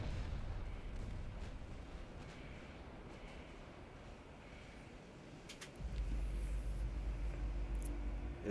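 A battleship blows up and goes down in Ultimate Admiral Dreadnoughts, a low, rumbling explosion roar that swells into a deep, heavy boom toward the end, with faint crackles above.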